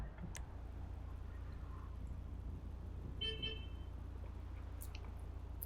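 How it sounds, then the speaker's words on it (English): A car horn toots briefly outside, faint and distant, over a steady low hum of room and traffic noise, with a couple of short clicks around it. "Can you not honk outside, please?"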